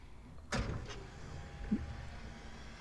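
A truck's lift gate lowers after unloading plants and flowers, starting with a sharp metallic clunk and then a faint, steady electric motor hum, quiet and close.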